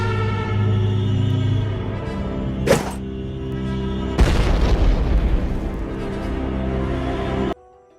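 Bomb fruit's Snipe move in the Blox Fruits game goes off with a short burst and then a heavier, rumbling explosion, both loud over steady game music.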